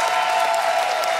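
A studio audience gives a brief burst of applause for a guest, dense and even, with faint crowd noise mixed in.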